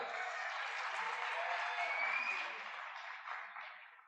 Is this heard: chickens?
no